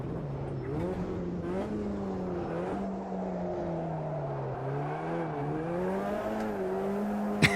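Race car engine in Automobilista 2 droning steadily with a wavering pitch as the revs sag and recover, loud and continuous with no talk over it.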